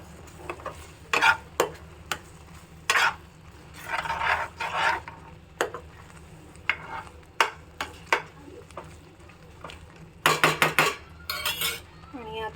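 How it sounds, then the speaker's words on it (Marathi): Close metal spoon scraping and tapping against a pan as masala oats are stirred, in irregular bursts with a few quicker clattering strokes near the end over a faint background hum. "आणि आता आपण छान मिक्स करून घेऊया ते."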